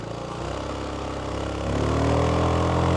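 A Zontes 368G scooter engine under load while riding uphill on mountain corners, a continuous droning hum that grows louder and rises in pitch partway through, steady and close with no talk.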